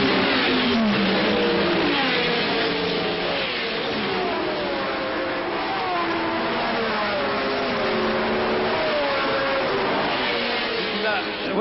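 Lotus and other racing cars of the 1963 Monaco Grand Prix, engines of around 200 horsepower, roar steadily through the street circuit, revving and shifting pitch as they pass, loud and continuous under a French commentator's voice.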